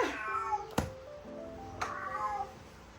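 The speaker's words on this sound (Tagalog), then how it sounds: "Si Darimka, nag-aaway pa yan sila ni Miyong?" Cats quarrel indoors, giving out a couple of drawn-out, wavering meows at close range over a quiet room.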